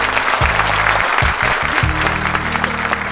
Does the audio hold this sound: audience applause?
yes